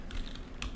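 Keys on a computer keyboard click in a short burst of quick taps, a few close, crisp strokes at moderate volume with no speech.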